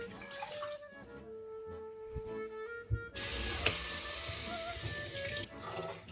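Water gushes from a tap into a pot for risotto, a loud steady hissing pour that starts abruptly midway and runs for a couple of seconds before tapering off, with no talk over it.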